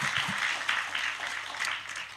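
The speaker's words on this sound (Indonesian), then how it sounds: "berikan tepuk tangan kita untuk Tuhan kita" A church congregation claps together during a sermon, producing a soft, even wash of applause that sounds somewhat distant and continues throughout.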